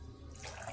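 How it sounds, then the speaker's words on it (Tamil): Water splashing into a pot of dry fruit payasam, a short, quiet, steady pour with no one speaking. "நான் கொஞ்சமாக இப்போ தண்ணி சேர்த்துக்க போகிறேன்."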